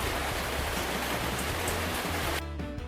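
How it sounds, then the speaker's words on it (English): Rain falls as a dense, even hiss of drops, close and steady for a few seconds before cutting off abruptly near the end. "Rain."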